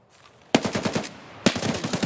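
Two bursts of rapid automatic gunfire in the video game Escape From Tarkov, loud and close, each a fast run of sharp shots separated by a short near-silent gap.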